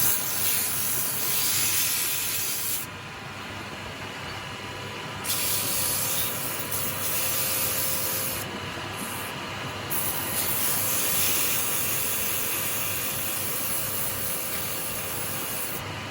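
A workshop vacuum runs steadily during woodturning, a loud, constant whooshing roar with slight dips in intensity and no voices.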